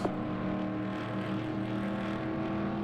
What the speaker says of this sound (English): I'm just not a fan of these engine sounds.